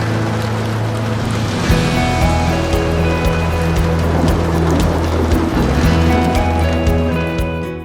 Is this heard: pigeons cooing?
no